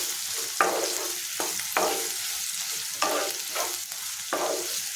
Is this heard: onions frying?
yes